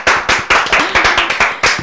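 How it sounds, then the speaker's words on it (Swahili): Loud, crisp clapping with a quick steady rhythm, about nine sharp claps close together in under two seconds, from an audience at a comedy show. "mahoera makofi."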